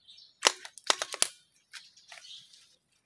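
A Makita nail gun fires in a quick cluster of sharp, close pops that sound like gunshots, followed by a few softer clicks and knocks in an otherwise quiet space.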